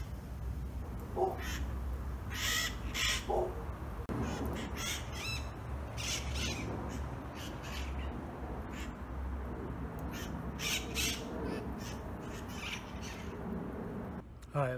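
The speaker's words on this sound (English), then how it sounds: "You can hear them talking to themselves." A flock of about twenty parrots squawks and chatters in a back yard, repeated harsh calls scattered throughout over steady outdoor noise, moderately distant and fairly faint.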